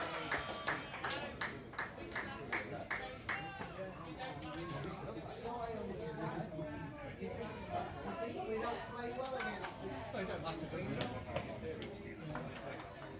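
Football supporters gather in the main stand at a non-league FA Cup match, a crowd murmuring and chattering with scattered claps and footsteps, voices close by throughout.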